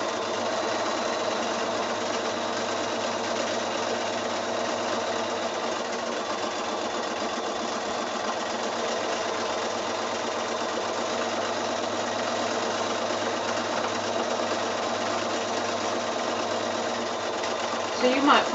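A sewing machine runs in one steady, continuous whir, stitching leaf veins on a quilt wall-hanging, with its rapid needle rhythm holding close and even throughout.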